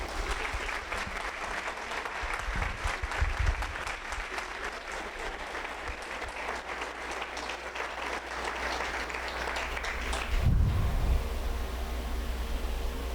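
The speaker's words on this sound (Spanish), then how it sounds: "Un aplauso para nuestros ponentes" An audience at an intimate tribute gathering applauds the speakers with steady, dense clapping at moderate distance, lasting over ten seconds before it subsides into a low background hum and rustle.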